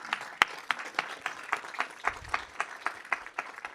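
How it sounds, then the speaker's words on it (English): Audience applause at a county council meeting during an Autism Acceptance Month proclamation: a modest crowd claps in a steady, sparse patter of distinct hand claps, moderately loud and without talk. "Please give them all a round of applause."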